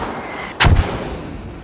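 A single loud mortar round fires in the video game Squad, a sharp close boom with a rumbling tail, with no voices.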